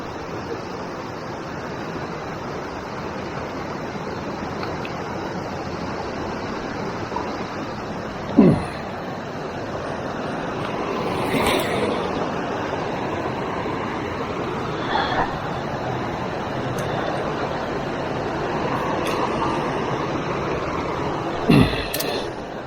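Creek water rushes steadily over a rocky crossing, a broad, continuous wash of flowing water with a few brief thumps and knocks from footsteps.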